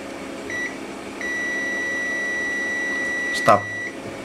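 An electronic tester checking a capacitor during an FPV drone build gives a short beep, then a long steady tone that holds for a couple of seconds before stopping, over a faint background hum.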